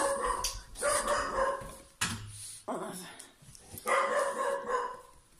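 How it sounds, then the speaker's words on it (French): Dogs bark in loud repeated bursts nearby, with yips and brief pauses between the volleys. "j'ai les chiens qui sont excités"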